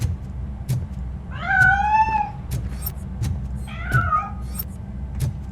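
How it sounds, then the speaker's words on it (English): Two drawn-out cat meows in the game RoboCop: Rogue City, the first longer and wavering, over a low steady hum with occasional soft clicks. "That cat must be hiding inside."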